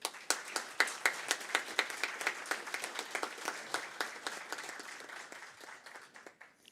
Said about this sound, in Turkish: kuvvetli bir alkış rica ediyorum